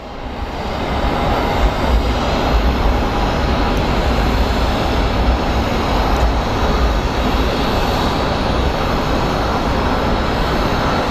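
An airliner arriving from Ontario at Phoenix Sky Harbor International Airport, heard as a loud, continuous broadband roar that holds steady throughout, with no talking.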